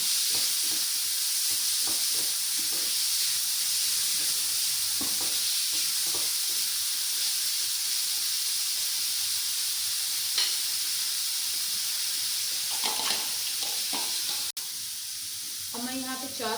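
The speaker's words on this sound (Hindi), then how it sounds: "दो मिनट तक हम प्याज को भी फ्राई करते हैं।" Chopped onions fry in a pan with a steady, close sizzling hiss throughout, joined by occasional soft scrapes and clicks of a utensil stirring them.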